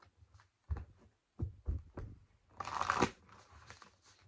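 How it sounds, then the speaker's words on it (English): Close, quiet oracle card shuffling: a few soft riffles and taps, then a brisker, louder shuffle before settling. "One last shuffle here."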